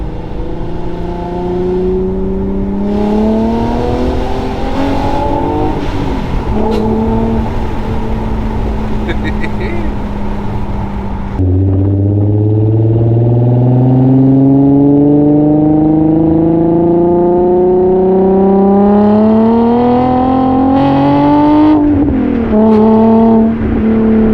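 A 2008 Infiniti G35S sedan engine with a six-speed manual revs loudly and close by, its pitch climbing in long sweeps, dropping back, then rising again over about twenty-five seconds.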